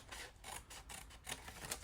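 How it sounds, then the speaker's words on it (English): Scissors cutting along the score lines of a sheet of acetate, faint close-up rasping snips repeating in a loose rhythm, with no talk. "you just take your scissors and you're just gonna cut up those score lines"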